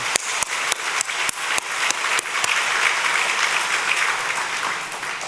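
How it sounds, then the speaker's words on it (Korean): A church congregation claps for a pastor during an anniversary service, starting with several sharp separate claps that swell into dense, sustained applause filling the hall. "박수하겠습니다."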